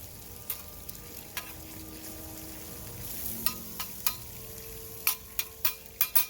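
Steady frying sizzle with scattered sharp pops and crackles from food frying hard in a pan over an open fire grill, close by, growing busier toward the end, no voices.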